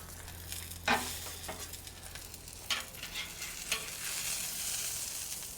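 A frozen steak searing on a hot flat top grill, a steady crackling sizzle close by, faint overall, punctuated by a few sharp pops and scrapes as the meat is handled.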